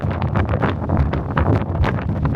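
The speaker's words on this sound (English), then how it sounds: "wind's picking up" Strong wind buffets the microphone on the open deck of the Sapphire Princess cruise ship at sea, a loud, gusty, rumbling roar that swells and dips throughout without a break.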